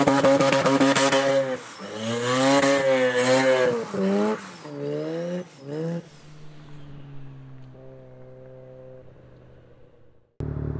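A Mazda RX7 on sticky Time Attack tires with an upgraded diff revs hard and repeatedly while attempting donuts. Engine pitch sweeps up and down in loud bursts, then settles into a steadier drone before a sudden cut.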